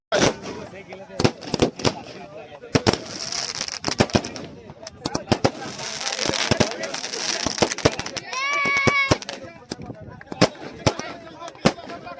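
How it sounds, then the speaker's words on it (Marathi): Firecrackers burst in rapid, irregular bangs, loud and close, celebrating a local cricket league championship, with a whistling one rising partway through and people talking underneath. "फटाक्यांची आतिषबाजी"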